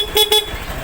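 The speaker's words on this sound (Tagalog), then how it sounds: "Tapos siyempre may busina yan mga boss." Two short, loud toots of a car horn wired through a switch set-up sound close by in quick succession, followed by quiet.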